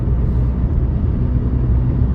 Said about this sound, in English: Do not panic, that's just my car revving.